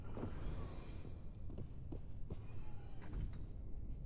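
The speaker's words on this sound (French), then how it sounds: "c'était mes bruits de pas" Footsteps of the player's own character in the video game Species Unknown, a steady run of soft thuds at moderate distance over a constant low game ambience, with no talk.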